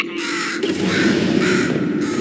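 Repeated crow-like caws from a bird in the video game Portal 2, a harsh rasping call that fills the clip nearly continuously at close range, with no talking over it.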